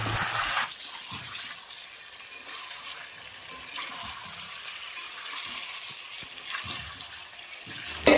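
Chicken and fried potatoes sizzle in a pan with very little oil as they are stirred and scraped, giving a steady soft crackle with occasional utensil knocks close by.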